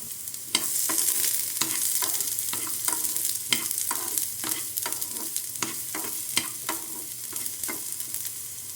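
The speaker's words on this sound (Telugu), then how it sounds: "ఈ బీట్రూట్ ముక్కలు ఉన్నాయి కదా వీటిని కొంచెం ఫ్రై చేసుకుందాం" Beetroot pieces fry in oil in a kadai, a constant sizzle broken by repeated scraping stirs of a spoon against the pan at an irregular, busy rhythm, close and fairly loud with no talking.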